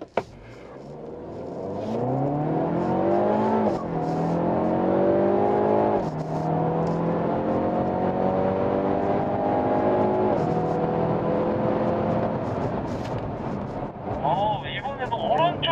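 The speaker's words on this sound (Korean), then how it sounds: "드래그 레이스 옆조분과 한번 해보도록 하겠습니다" Hyundai, Kia and Genesis cars accelerating hard off the line in a drag race at a driving experience centre, engines rising steadily in pitch through repeated gear changes, loud and sustained, with speech mixed in.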